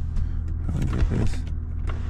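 A sunroof motor on a Cadillac truck runs with a steady electric whir over a low cabin hum, heard close and continuous for about two seconds.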